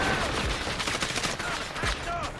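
Bursts of gunfire in the Delta Force shooter game, rapid cracks scattered over a dense, steady battle din with some voices mixed in.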